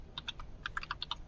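Loud typing on a keyboard: a quick, irregular string of sharp clicking keystrokes, close and clear, with short pauses between bursts.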